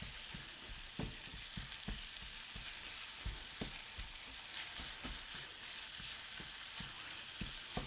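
Meat for Mexican sopitos fries in a pan, a steady loud sizzle with frequent soft scraping stir sounds throughout, close up and without speech.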